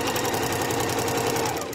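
A sewing machine stitches along a fabric edge, a continuous close whirring hum with a steady rapid mechanical pulse and no pauses.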